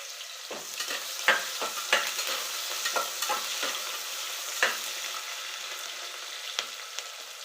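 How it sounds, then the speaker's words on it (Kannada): Onion tossed into a hot pan for pulav and stirred while it fries, giving irregular scraping spoon strokes over a soft, steady sizzle with no talking. "1 ಉಳ್ಳಾಗಡ್ಡಿ ಅಷ್ಟು ಹಾಕ್ತೀನಿ"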